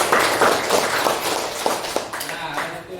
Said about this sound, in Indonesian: Oke, tepuk tangan lagi untuk kita semua.